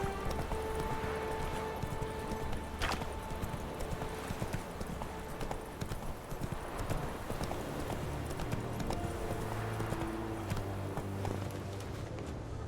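The horse Roach galloping in The Witcher 3 video game, hooves clip-clopping in a steady fast rhythm, close and continuous beneath game music and occasional talk.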